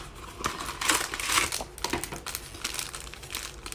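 Packaging of a Final Fantasy VII Remake deluxe edition being opened, making close crinkling and crackling of paper and plastic in short bursts, fairly loud and with no one talking.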